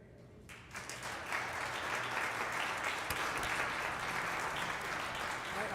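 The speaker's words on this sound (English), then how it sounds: "I really deserve a big hand of applause" An audience applauds at a healthcare talk by JB Silvers, clapping that builds within the first second and then holds as a steady, full patter from the whole room.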